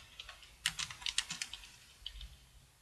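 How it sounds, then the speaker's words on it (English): Fingers type on a computer keyboard, entering a report name in QuickBooks Online: a short run of about a dozen light, close key taps, then two or three more after a pause, fairly quiet and with no voices. "go to report, and just type profit and loss"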